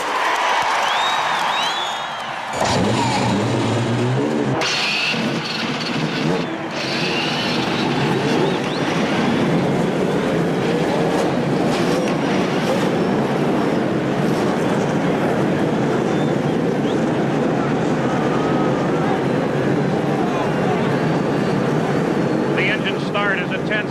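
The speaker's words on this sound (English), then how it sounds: "Ladies and gentlemen, start your engines." Indy 500 race car engines at Indianapolis Motor Speedway in 1992 roar into life after a brief lull, then a dense, loud sustained engine drone with crowd noise fills the rest, near and continuous.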